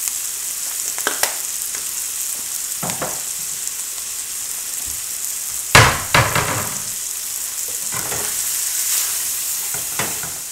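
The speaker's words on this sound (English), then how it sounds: "I'm gonna use minced garlic in here. We'll get that toasted up." Minced garlic toasting in a pan for a sausage Alfredo pasta sizzles loudly and steadily, broken by a few sharp knocks and scrapes of a utensil against the pan.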